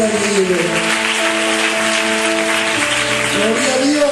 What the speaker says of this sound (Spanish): Dale ese aplauso al que vive.